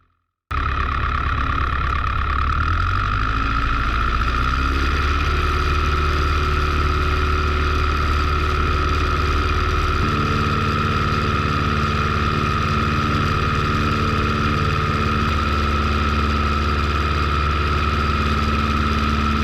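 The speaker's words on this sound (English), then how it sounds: "You join me as I taxi out in a Piper Super Cub on a cold sunny afternoon in December" A Piper Super Cub's engine idles steadily as the plane taxis out on a cold sunny December afternoon, a loud, continuous close-up drone with small pitch shifts and a rising tone early on, with no talk.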